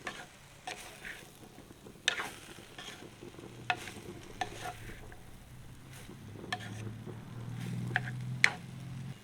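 Tomatoes for a Jaffna-style radish curry sizzle gently in a pan, with intermittent clicks and scrapes of stirring and a low hum building toward the end, no talking.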